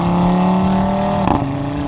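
A car engine holds a steady high rev with a droning exhaust note at around 4,000 RPM, then shifts to a lower pitch partway through, loud and close.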